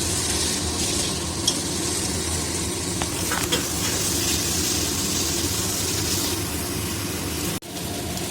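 Chicken pieces cooking in oil in a pan for chicken butter masala, giving a steady loud sizzle and bubbling frying hiss throughout with a few brief scrape-like clicks and a sharp knock near the end.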